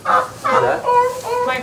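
A broad-breasted bronze turkey hen named Ruthie, in a turkey barn, lets out a run of close, loud, warbling gobbles in quick rhythmic bursts, with no talking.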